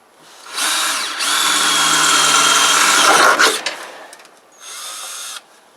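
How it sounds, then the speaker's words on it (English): A power drill with a wax-lubricated quarter-inch bit whines and grinds through material in one long run, stops, then gives a short second burst. "Just using a 1/4 inch drill bit."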